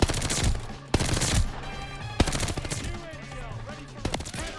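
The MP40 submachine gun in Call of Duty Vanguard fires in several short rapid bursts with sharp separate shots between them, loud and close, game sounds mixed around the firing.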